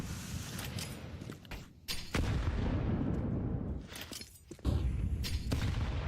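Two grenade blasts in Counter-Strike, each a sharp bang followed by a rumbling, sustained roar and debris, fairly close and loud with no speech.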